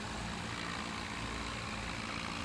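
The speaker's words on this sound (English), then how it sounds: "This is a cute little tractor." A small tractor idling in Farming Simulator 17, giving a steady, even low engine drone that stays constant and unchanging at moderate loudness, with nothing else heard alongside it.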